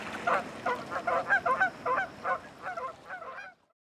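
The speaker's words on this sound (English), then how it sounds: "13 different Canada goose calls." Canada geese honk in a rapid series of about a dozen loud calls, close and overlapping, before cutting off into silence.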